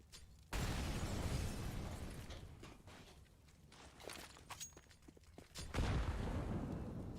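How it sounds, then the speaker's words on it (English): A grenade bursts in a Counter-Strike: Global Offensive match, a sudden loud blast followed by scattered clicks, footsteps and small in-game sounds, then a second heavy burst near the end. "Nade down toward alt mid."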